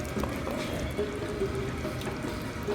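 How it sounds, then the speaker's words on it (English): Garbanzo beans tip into a pan of cauliflower chickpea sauce, giving a soft, wet, continuous pouring and plopping sound up close that lasts a few seconds. "at this point we're going to put our garbanzo beans inside"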